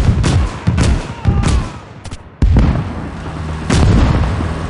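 A loud gun battle in the Gates of Hell war game, with repeated heavy booming shots and blasts, some close and sharp, others rolling and distant, with brief lulls between them.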